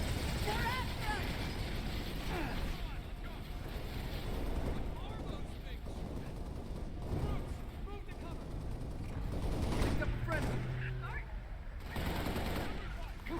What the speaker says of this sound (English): I hear gunfire that isn't alien gunfire.